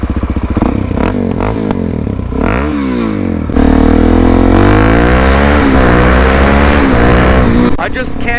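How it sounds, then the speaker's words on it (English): Loud motorcycle FMF exhaust revving hard and echoing under a bridge, with rising and falling engine pitch sweeping up through gears, very close and booming throughout. "I want to go under it and see how loud my exhaust would be."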